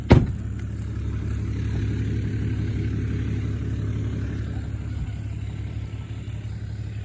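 A car rolls up to a rural clearing on a property where back land is being cleared, its engine a steady close, mid-pitched hum after a sharp opening thump, running alone without voices.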